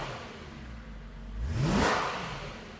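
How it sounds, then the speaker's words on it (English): A BMW M3 E90 with an aftermarket exhaust revs once on a downshift, the engine note climbing sharply from a low idle rumble to a loud, rising roar, then easing off. "that exhaust wasn't stock, but the downshift just sounds amazing"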